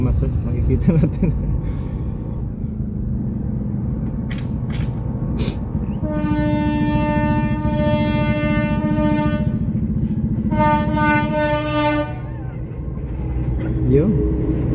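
A passing train near Milaor in the Philippines rumbles loudly and continuously, and its horn sounds in two long, sustained blasts about a second apart, with a few sharp clanks before them.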